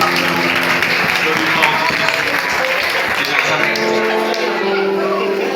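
A church congregation claps and acclaims in a sustained, dense burst close by, steady throughout with voices mixed into the applause.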